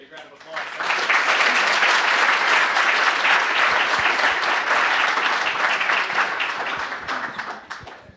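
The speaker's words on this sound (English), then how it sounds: "Big round of applause." A crowd at a university startup pitch event breaks into a big round of applause that swells quickly, holds loud and dense for several seconds, then thins out near the end.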